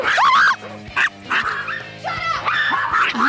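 Several small dogs bark and yip loudly in sharp, ear-splitting bursts, with high whimpering yelps between them, close by and filling the whole stretch.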